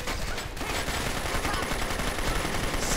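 Dense, rapid gunfire from the online shooter game Paperman keeps up loud and nonstop, a crackling burst of shots filling the whole moment.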